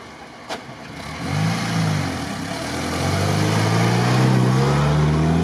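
An old Jeep Willys engine strains while accelerating in a car, its low mid-pitched drone rising steadily and growing louder over several seconds after a brief knock.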